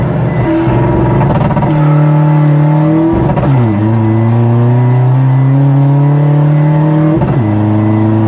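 A loud, close 1.9-litre drag racing car engine with an upsized turbocharger revs repeatedly, pitch climbing and dropping between gear changes, with a high turbo whistle riding over the roar.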